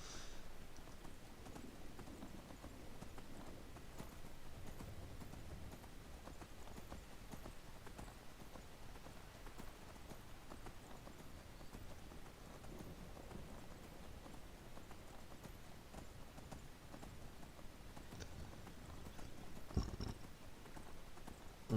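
Steady clip-clop of horse hooves trotting at an even rhythm, fairly faint, over a soft hissing background like light rain, from the video game Skyrim.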